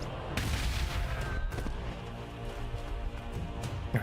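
Gunfire and explosions from the strategy video game Warhammer 40,000: Gladius sound in rumbling bursts, with several sharp cracks amid low booming, moderately loud and continuous.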